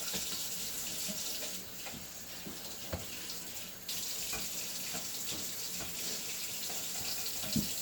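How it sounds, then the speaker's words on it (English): Hot tap water streams into a sink while a dough-covered mixing bowl is washed. The flow is steady and close, with brief dips and thuds as the bowl shifts under the water, and no talking. "Since I'm washing this bowl, I like to use hot water because not only does it get everything off"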